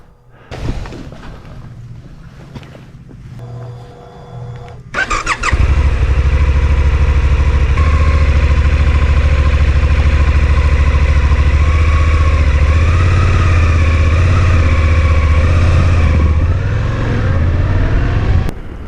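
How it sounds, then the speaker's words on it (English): A Suzuki V-Strom 800DE adventure motorcycle, left outside overnight, cranks briefly, then fires up and settles into a loud, steady, close idle that runs to the end. "this bike is started up fine. It was left outside overnight, and it started up with no issues whatsoever"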